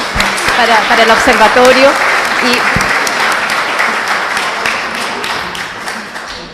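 An audience at a talk on protecting people in human mobility breaks into applause, a dense burst of clapping that swells early and then slowly fades, with a voice speaking over the start.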